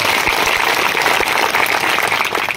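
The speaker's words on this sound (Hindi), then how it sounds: "वनारा वाते जोरदार तालियां बजाओ" A crowd at a BJP candidate's political rally in Nathdwara claps loudly and steadily, a thick wash of applause with no clear speech.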